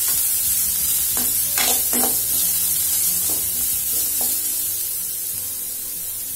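Beetroot sautés in a hot pan, giving a loud, steady sizzle with several scraping stirs of a utensil over the first half that then eases into quieter frying.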